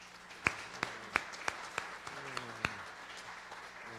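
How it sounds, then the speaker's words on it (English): A small audience at a college event applauds two professors, sparse, fairly faint clapping with a few distinct louder claps standing out over a soft spread of hands. "can we give a round of applause for them as well?"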